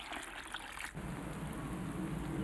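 Water tipped into a pot of Chongqing hotpot soup base in a home kitchen, a steady close gush and trickle of liquid running for a couple of seconds with no voices.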